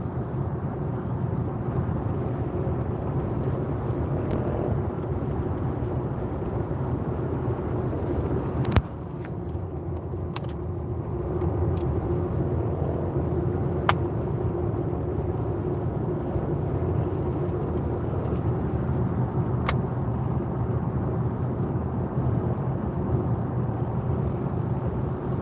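Steady low road and tyre rumble fills the cabin of a moving VW ID.7 GTX Tourer electric car on 19-inch wheels with ordinary-profile tyres, a constant broadband drone with a brief knock partway through.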